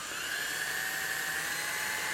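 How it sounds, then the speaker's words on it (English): A power drill whines steadily and loudly as it bores holes around the middle of a plastic pot while a hummingbird fountain is built, its pitch holding almost constant throughout. "now take your plastic pot and just start drilling holes in it right around the middle"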